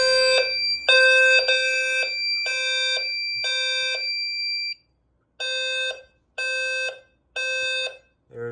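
A Notifier SFP-10UD demo fire alarm system sounds a loud electronic horn-tone in repeated short pulses, steady at first, then stopping briefly before the pulsing resumes.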